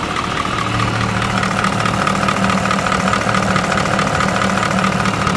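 Caterpillar 3208 diesel engine idling, a steady loud rumble that holds an even drone for the full length with no other sounds.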